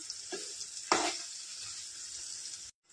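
Amla pickle mixture is stirred in a pan for a sweet Bengali amlaki achar: a steady close sizzle runs throughout, with a couple of brief scraping stirs and a louder scrape near the middle, then a sudden cut to silence.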